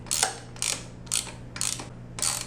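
A ratchet wrench fitted with a 14mm socket tightens a bicycle crank nut onto its taper, giving five evenly spaced bursts of close, bright clicking over a low steady hum.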